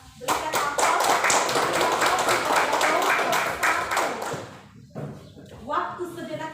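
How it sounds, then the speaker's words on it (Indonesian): A classroom audience claps in a loud, steady burst of applause that lasts several seconds, then fades as a voice begins speaking. "Berikan aplaus."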